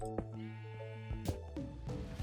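Sheep bleating in Minecraft, several blocky, nasal bleats in quick succession, fairly close and clear with no talk over them.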